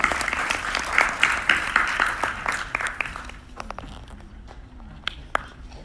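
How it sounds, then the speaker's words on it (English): Following a panel discussion on surviving genocide and religious persecution, an audience claps in a full round of applause that thins after about three seconds into a few scattered, fading claps. "just another final round of applause"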